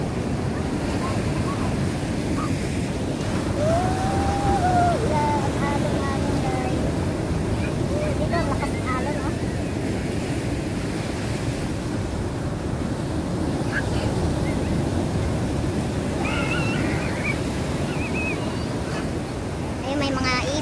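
Ocean waves at Hampton Beach roll in with steady loud surf and wind rumble, the wash continuous throughout, with a voice faintly heard now and then over it.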